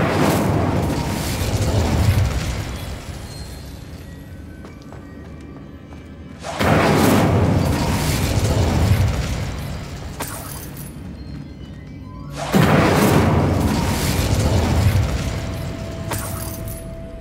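Incendio fire spell blasts in Hogwarts Legacy, three loud whooshing bursts of flame roughly six seconds apart, each swelling and then fading into a rumbling game background.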